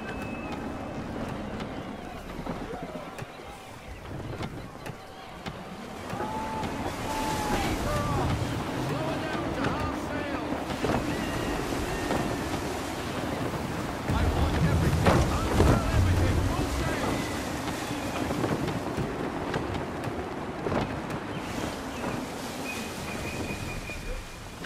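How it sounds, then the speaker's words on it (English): Gusty wind roars over the sea around a sailing ship in the Assassin's Creed III game, with rushing water, waves and creaking under continuous buffeting gusts that swell louder midway, while voices speak over it. "Gusty winds can be difficult to manage."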